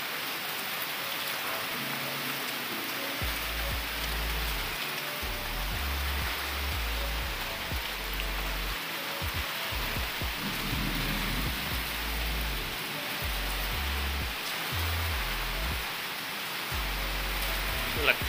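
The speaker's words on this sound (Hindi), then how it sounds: "बाहर बारिश हो रही है." Rain falls steadily outside, a constant dense hiss, while deep thunder rumbles roll in and out repeatedly across the whole stretch, with no voices.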